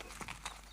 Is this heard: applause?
no